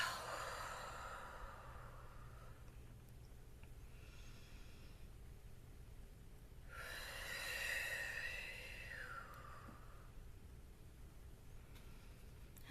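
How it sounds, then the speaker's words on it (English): Long, slow exhales during a guided meditation, soft and airy, with a steady low background hum and no speech. "and exhale."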